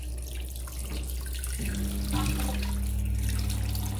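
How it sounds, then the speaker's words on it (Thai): Steady running water pours from a tap into a bathroom washbasin just cleared of a clog, a continuous close splashing rush with a washing machine humming in the background. "น้ำจะไหลไปเรื่อยๆอย่างนี้"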